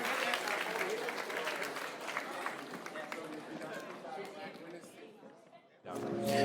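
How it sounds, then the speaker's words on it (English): Wedding reception crowd applauding quiz winners, dense steady clapping mixed with chatter and voices, fading somewhat before a sudden louder swell of noise near the end. "Give everybody a round of applause."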